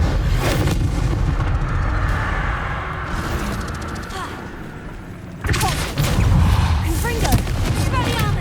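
Explosive spells in Hogwarts Legacy: a dense, loud run of booming blasts and crackling impacts through most of the stretch, with a heavier burst of detonations about two-thirds of the way in.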